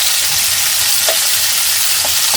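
Cauliflower pieces cook in oil for a masala phulkopi sabzi, producing a loud, dense, even sizzle with faint scraping of stirring underneath.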